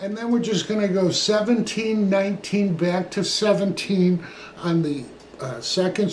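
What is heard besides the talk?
No distinct noise like a dog, phone or traffic.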